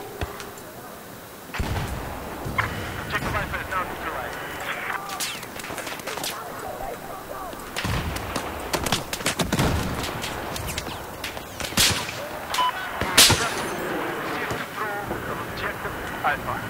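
Gunshots in Battlefield 4, scattered sharp cracks and bursts of gunfire at varying distances over a steady battlefield rumble, with a voice talking throughout.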